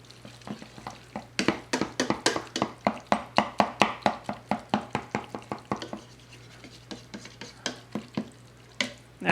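Mashed cauliflower with butter stirred in a pot, a rapid series of close, regular thick clacks and squelches of the spoon, loud and rhythmic, with no talk.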